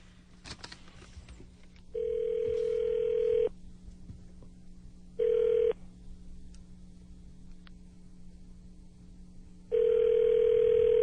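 A phone call rings out through the line in three long steady ringback tones with silent gaps between them, clear and close with faint clicks in between, and no talking.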